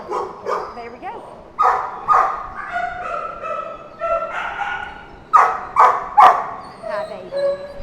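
Dogs and puppies at an animal shelter bark, yip and whimper in quick, close bursts, with a person talking among the noise.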